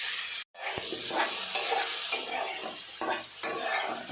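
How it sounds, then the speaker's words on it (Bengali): Taro corms stir-frying with cumin in a pan give a steady close sizzle with scraping stirs. A brief cut of silence comes near the start, and sharper spatula clanks land later. "তারপর কচুর মুখিগুলো দিয়ে আর একটু কষাবো"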